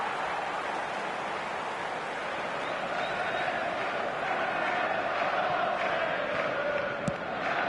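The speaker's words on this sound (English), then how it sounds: "The crowd are calling for this to be put to bed." A stadium crowd in the eFootball video game keeps up a steady, dense roar of cheering and chanting throughout, with one brief sharp knock near the end.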